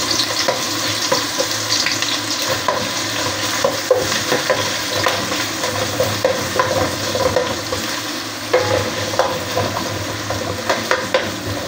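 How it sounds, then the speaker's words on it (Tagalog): Loud, continuous sizzling and frying with scraping stirs as garlic and aromatics are sautéed in hot oil for a chicken backbone sinigang, close and dense with occasional clinks. "Yan na po, magsisimula na po tayo maggisa."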